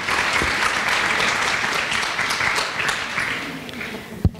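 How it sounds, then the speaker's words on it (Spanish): An audience at a sports nutrition talk on intermittent fasting claps to welcome a speaker, sustained loud applause filling the room for about four seconds, with a sharp knock near the end. "Un aplauso para ella."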